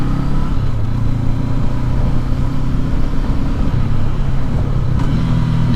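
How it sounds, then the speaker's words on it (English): A 2019 Honda CB500X motorcycle engine runs steadily and loud close by, with a twin-cylinder hum and subtle rises that suggest a downshift with a throttle blip, no voices over it. "Downshift and auto blip like I'm teaching you."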